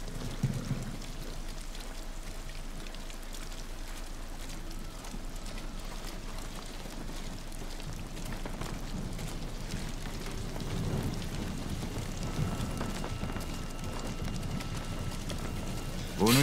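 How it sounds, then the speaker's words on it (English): Steady rain patters and hisses throughout a stretch of the video game Ghost of Tsushima, a constant moderately quiet downpour with some low rumbling underneath and no clear speech. "This rain effect is making me quite moist."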